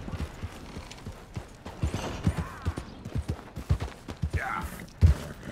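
In Red Dead Redemption 2, a horse gallops with rhythmic clip-clop hoofbeats over a low background bed, plus a short whinny-like sound near the end and a heavy thump just after it.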